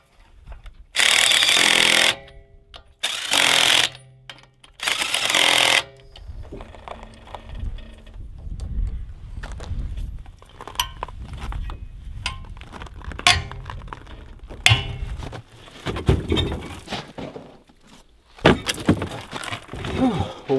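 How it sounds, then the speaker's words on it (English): Summer tires going onto a car in Alaska, replacing studded winter tires: three loud bursts of power tool whirring on lug nuts early, then scattered metallic clinks and thuds of wheels and tools nearby. "we're putting our summer tires on"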